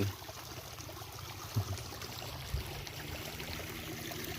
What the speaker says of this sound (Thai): น้ำตกในสวนยางนะครับ